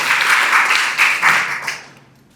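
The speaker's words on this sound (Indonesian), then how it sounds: "Tepuk tangan dulu untuk kalian semua." Participants at a university lecturer certification session clap together in a short burst of applause, fairly loud with a few sharper peaks before quickly dying away.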